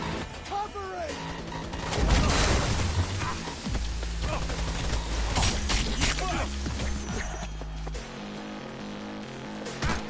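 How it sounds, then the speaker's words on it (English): Rocket launcher explosions in a video game, a series of booms, blasts and crackling gunfire with a low rumble, mixed with game sounds and a talking voice. "Who started a rocket launcher at my ass?"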